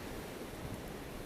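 Strong blizzard wind in Maryland, a steady, loud broadband roar buffeting the microphone throughout with no break, no voices present.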